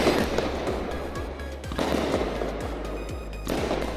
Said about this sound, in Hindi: जस्ट पीछे से आतिशबाजी शुरू हो गई है